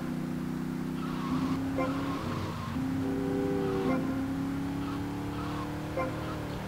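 Car engines and busy race traffic in the video game GTA Vice City: droning, shifting engine tones that rise and fall as gears change, with brief tire noise, continuous and moderately loud, with someone talking faintly beneath.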